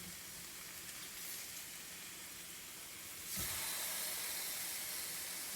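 Fish frying in a pot gives off a steady hiss and sizzle. Partway through it is flipped with a spatula: a brief scrape and thump, then a louder, brighter sizzle.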